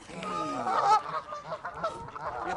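Geese honking while scrabbling for food at Ferrymoor Flash: a busy, close run of overlapping honks and squawks from several birds, continuous and agitated throughout.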